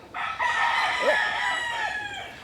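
A young rooster on a farm, tethered on a tie cord, crows once in a drawn-out call that runs nearly the whole moment, fairly close and clear over a steady outdoor background.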